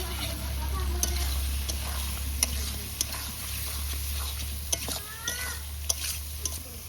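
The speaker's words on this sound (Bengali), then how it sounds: "এখন দিয়ে দেবো ভেজে রাখা আলু" Fried potatoes are stirred into a cooking masala in a pan, producing a soft sizzle with occasional sharp clicks of a spoon, over a low steady hum.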